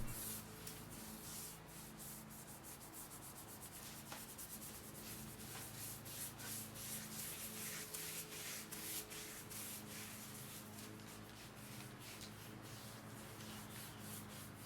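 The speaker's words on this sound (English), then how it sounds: "Apply a liberal amount of pre-stained wood conditioner using a plain chip brush." A plain chip brush spreads pre-stain wood conditioner across a vintage Dayton table with continuous faint scratchy bristle strokes, close up and quiet, with no voices.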